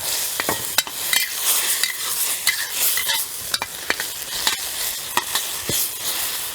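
A spatula scrapes and taps against a pan as green onion and seaweed are stirred into sizzling luffa gourd, with sharp rhythmic clicks over a steady frying hiss, close up and without talk.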